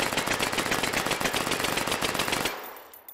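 Rapid automatic gunfire in the VR shooting game Hot Dogs, Horseshoes & Hand Grenades, a loud, dense burst of shots for about two and a half seconds that then cuts off into near silence.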